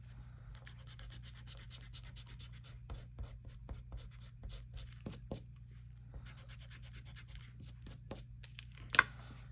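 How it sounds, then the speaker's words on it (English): Pencil lines are erased on paper with quiet, close rubbing and scratchy strokes in short bursts over a faint steady background hum, with a sharper tap near the end and no talking. "I'm just going to go right there. Erase my lines."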